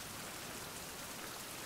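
Steady, dense rain falls in a survival game with the German dub, a constant even hiss with no breaks throughout.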